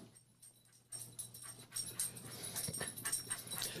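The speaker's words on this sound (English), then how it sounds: "This is an old ass dog that's been had multiple back surgeries up in here photobombing me" An old dog with a history of multiple back surgeries pants and whimpers close by, starting faintly and then breaking into quick rhythmic breaths mixed with soft whines that grow busier toward the end.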